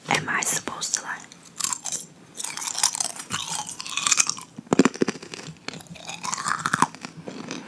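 Close, loud crunching and chewing of hard candy such as pop rocks, repeated bites in an uneven rhythm, with soft whispered talk in between.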